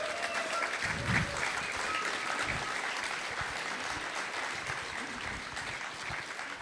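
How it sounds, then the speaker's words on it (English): An audience at a talk by Tucker Carlson at MCC Feszt claps steadily, a dense wash of applause at moderate distance with a few voices faintly mixed in. "Give a big applause to him, please."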